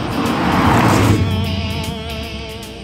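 A 2024 Toyota Corolla GR on the road, its engine a steady broadband roar that swells for the first second then settles into a smoother hum with faint tonal whine, continuous and close, no talk.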